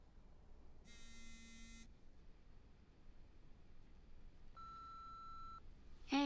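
A phone rings with two short electronic tone bursts separated by a pause, faint and alone against a quiet room.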